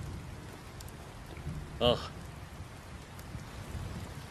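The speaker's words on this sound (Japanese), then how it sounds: "嵐が来ますね、父上。" A steady hiss of rain fills a storm scene in the video game Samurai Warriors 4, constant and fairly soft throughout, with a voice giving a brief exclamation partway through.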